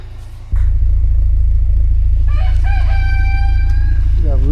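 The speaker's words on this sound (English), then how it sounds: "We got roosters in the forest behind me." Roosters crowing in a forest, several drawn-out calls rising over a loud, steady low engine rumble that starts abruptly, with clucking-like fragments and a final crow at the end.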